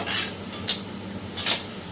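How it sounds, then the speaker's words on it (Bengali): Mixed vegetables for fried rice fry in a pan while a utensil scrapes and stirs them in a few brisk, separate strokes over a soft, steady sizzle, close by with no talking. "ফ্রাইড রাইসের সব রকম সবজি কিন্তু ভাজা হয়ে আসছে"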